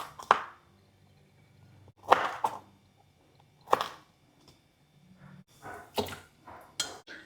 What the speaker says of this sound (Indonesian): Lanjut kita buang bagian kuku-kukunya ini.